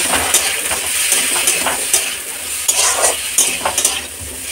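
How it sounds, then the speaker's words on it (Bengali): Vegetables tipped into a pan of lightly fried onions, chopped ginger and a little oil, followed by steady close stirring scrapes over a continuous sizzle, with no talking. "এবারে এই সবজিটা সব ঢেলে দেবো।"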